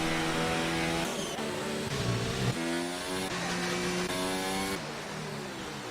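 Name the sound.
F1 2019 race car engines, from a video game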